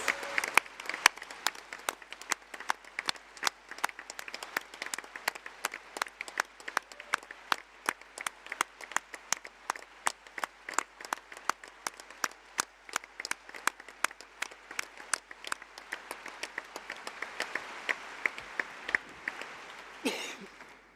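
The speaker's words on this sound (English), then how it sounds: "please can we have a very well-deserved round of applause for the venue, security, staff, our stewards" A conference hall audience at the Labour Party Conference in Liverpool applauds the venue staff, a long run of crisp, distinct claps, moderately near, steady throughout and swelling slightly toward the end.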